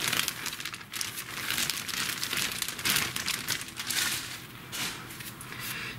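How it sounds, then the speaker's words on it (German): A plastic bag of cotton yarn balls is emptied onto a desk, giving soft continuous crinkling and rustling at close range, fairly quiet and without speech. "ich habe jetzt mal die Tüte ausgeschüttet"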